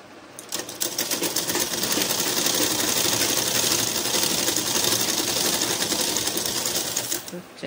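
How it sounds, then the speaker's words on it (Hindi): A sewing machine stitches continuously around the hem of a readymade petticoat, a fast, even mechanical whirr and clatter running steadily for several seconds, close and loud. "तो चलिए फिर पूरा राउंड में इसको सिलाई कर लेते हैं।"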